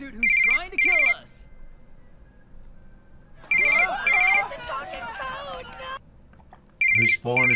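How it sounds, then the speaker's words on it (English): Telephone bell rings in short repeated double bursts, close and loud, interrupted by stretches of voices talking between the rings. "His phone is ringing."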